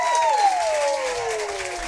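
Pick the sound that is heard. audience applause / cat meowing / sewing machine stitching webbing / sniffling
audience applause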